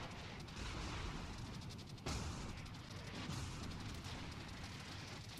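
Secondary guns on a battleship in World of Warships firing at the destroyer Shimakaze: a steady stream of crackling, rumbling gunfire under loud, dense naval combat noise, with a sharp burst near the middle.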